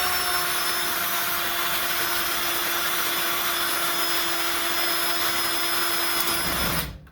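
A power drill bores out a spark plug with a spark plug drill bit during an LS engine swap on a square-body truck, giving a steady loud whine that runs for about seven seconds before cutting off.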